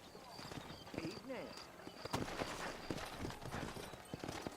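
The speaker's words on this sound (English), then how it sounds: "ain't gonna find sturdier horses than these in all of New Ulster" Hooves of horses clip-clop at a walk in a Red Dead Redemption game scene set in a western town, steady and close while voices talk over them.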